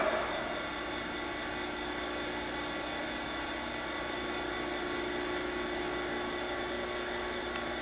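A Mitsui Hi-Tec MSG-250H-2AH hydraulic surface grinder's spindle runs with a steady, even whine and hum, a constant machine drone holding at moderate level throughout without pauses.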